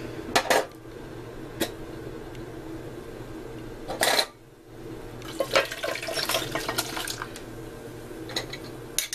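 Rose-infused water poured into a rice steamer, with a couple of sharp clinks of the metal lid and pot near the start and around four seconds, then a steady splashing pour through the second half, close and moderately loud.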